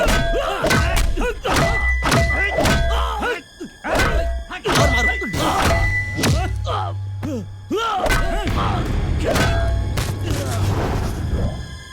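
Punches and blows land in rapid succession during a fight scene in a Hindi-dubbed South Indian action film, heavy thuds and whacks repeating loudly with dramatic music and brief shouting voices beneath.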